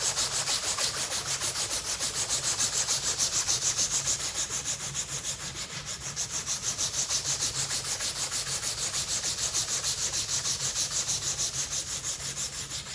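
A hunting knife handle is sanded by hand with 400-grit paper, a steady, close rasping rub in even back-and-forth strokes throughout with no talking.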